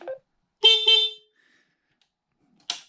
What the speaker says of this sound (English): So our stock horn, well, it is kind of loud.